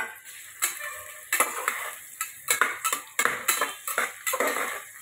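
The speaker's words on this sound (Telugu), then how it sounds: "చూడండి, ఫ్రై చేస్తున్నామండి. కొంచెం వేగుతున్నాయండి ఆనియన్స్, ఫ్రై అవుతున్నాయి" Onions and green chilies fry in a pan for a meal maker, sweet corn and rice dish, with a metal spatula clinking and scraping against the pan in quick, irregular strokes. The clattering is close and steady throughout, with no voices.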